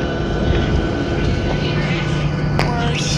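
A steady, loud airplane engine roar fills the whole clip, with a brief sharp click near the end.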